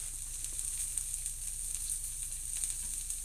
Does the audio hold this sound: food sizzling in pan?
yes